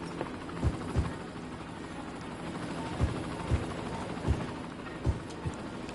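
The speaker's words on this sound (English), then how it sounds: "I can hear the helicopter." Helicopter flying in the city-building game Cities: Skylines Remastered, a steady rotor drone with soft repeated thumps over a busy broadband game soundscape, no talk.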